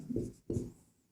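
A pen writes on paper or a board during a maths lesson, two short close scratching strokes separated by a brief pause.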